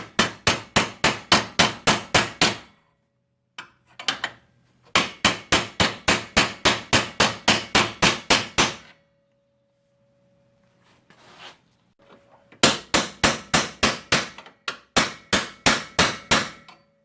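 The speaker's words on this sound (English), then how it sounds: "the outside one we did pound it in a little bit" A bearing is pounded into a 1995 Coleman camper's crankshaft housing with a hammer, struck in rapid loud bursts of about a dozen blows each, separated by short pauses and a faint hum.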